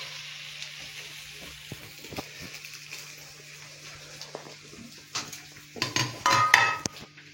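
A croque monsieur frying in a pan gives a quiet sizzle mixed with clinks and scrapes of utensils against the pan, growing louder and busier toward the end.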